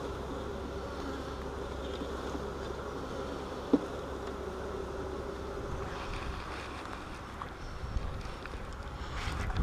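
Honey bees hum around an open hive during a split with a brood frame, a steady close insect drone with light wind noise and one sharp click.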